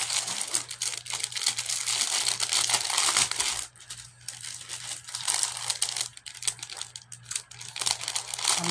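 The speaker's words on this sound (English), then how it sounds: "I'm not going to apologize for the crinkly paper" Crinkly paper wrapping from a Temu haul being crumpled and handled, a dense, continuous crackling rustle lasting throughout with a brief lull midway, close and fairly loud with no talking.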